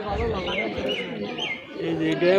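Pigeons cooing at a weekly pigeon market in Nagarpur, soft repeated coos close by, mixed with people bargaining and talking over them.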